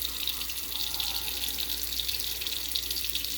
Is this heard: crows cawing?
no